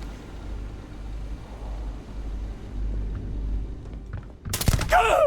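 Gunfire erupts at the end of a low rumbling ambience in the Starfield video game, a sudden loud burst of rapid cover-fire shots near the close.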